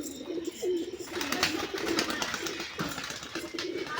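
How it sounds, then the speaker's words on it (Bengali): Young giribaz pigeons coo steadily near the listener over several seconds, with soft rustling and faint chirps in the background. "নতুন পায়রা"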